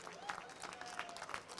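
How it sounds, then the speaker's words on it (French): Audience applause breaks out at a farmers' charity event, a steady patter of clapping with a few louder bursts, heard from within the crowd. "Ça s'applaudit, s'il vous plaît, mesdames Bravo, et messieurs."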